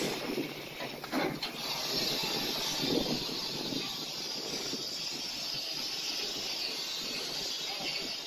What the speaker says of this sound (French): nous retournons notre locomotive. Ici, la plaque tournante est électrique.